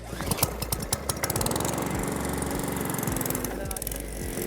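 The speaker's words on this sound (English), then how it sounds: "We pull the red lever in and then pull the recoil here" Recoil-started Cobra petrol lawn mower engine catching and running, a loud close rhythmic putter that holds steady after the pull.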